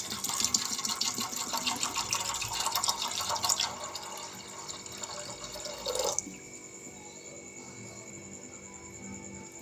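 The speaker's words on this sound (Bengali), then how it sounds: "আমি এতে জল দেব।" Water streams steadily into a pot of chholar dal (Bengali split chickpea lentils) as a close, continuous splashing pour lasting several seconds, then stops, leaving a faint steady hum.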